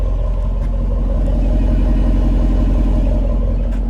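A deep, steady engine rumble idles close by from a 2024 Dodge Durango R/T with an aftermarket exhaust, a constant low throaty drone with no revving and no voices.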